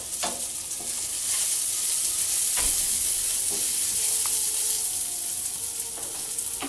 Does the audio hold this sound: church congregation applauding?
no